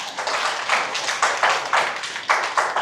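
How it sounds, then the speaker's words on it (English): A seminar audience claps in a steady patter of many hands across a few seconds, the applause filling the room at close range with no talk over it. "Give a big round of applause for this course,"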